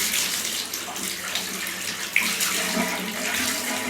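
Warm water pouring in a steady stream from a sink tap while a ferret is rinsed, a continuous splashing hiss at moderate level with one brief small splash midway.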